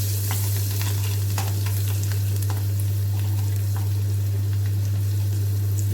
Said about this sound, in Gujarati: થોડીક વાર લસણ મરચાંને સંતળાવા દઈશું।